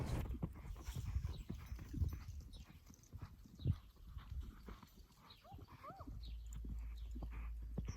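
A horse's hooves lope around barrels in an arena, a close, steady clip-clop of footfalls with a faint dog bark nearby and no clear speech.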